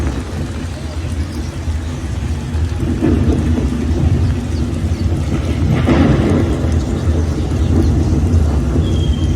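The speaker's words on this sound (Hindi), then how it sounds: "ऊपर का नज़ारा भी दिखाएं तो बारिश किस तरह हो रही है।" Rain falls over a bird park at a zoo in Madinah, a dense, steady wash of broadband noise that swells slightly midway and holds at a constant, fairly loud level.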